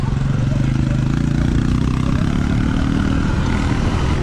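A Sur-Ron electric dirt bike rides across farm ground, producing a loud, continuous close-up roar of motor whine and wind rumble that holds steady and slightly shifts in pitch, with possible faint talk mixed in.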